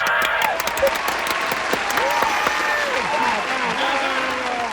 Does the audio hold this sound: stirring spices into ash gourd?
no